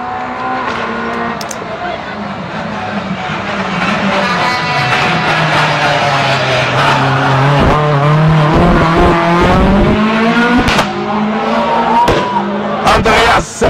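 A Peugeot 207 RC rally car on a stage of the Rallye des Grands Fonds approaches and passes, its engine loud and revving up through the gears with tire noise, while a commentator talks over it.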